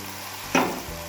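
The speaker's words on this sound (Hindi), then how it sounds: "अब इसको हम फ्राई करेंगे थोड़ा सा।" Omelette mixture with tomato, red chilli powder and salt frying in a pan, a quiet background hiss joined by a sudden sharp sizzle burst midway that fades back down.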